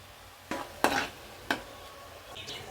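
Ginger garlic paste for a brinjal curry hits a hot frying pan, giving a few sharp sizzling bursts followed by soft stirring scrapes, close and moderately loud with no talking.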